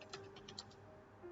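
Quiet typing on a computer keyboard: a handful of soft, quick key taps in an irregular burst, faint and close in a still room.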